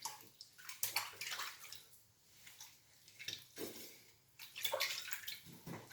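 Water runs and splashes quietly as a BIC Flex 5 razor is rinsed under a tap, with uneven swishing bursts and short gaps, close and soft.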